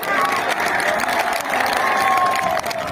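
A dense crowd at a political rally claps and cheers continuously, loud and close, with voices shouting through the applause.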